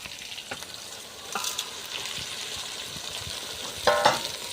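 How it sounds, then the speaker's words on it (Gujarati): Spices crackle and sizzle in hot oil for a dahi tikhari tempering, a steady close frying hiss with scattered pops and a brief louder crackling burst near the end. "આ બધી વસ્તુ કકડી જાય ત્યાં સુધી આપણે થોડી વાર હવે રાહ જોઈશું"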